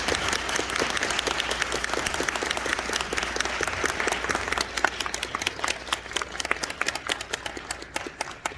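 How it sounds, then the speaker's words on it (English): An audience claps in sustained, dense applause that carries on evenly throughout, with a few individual claps standing out near the end. "And now you don't have to withhold your applause."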